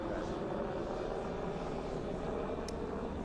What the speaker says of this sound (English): we do see an additional helicopter that's coming in for a landing right now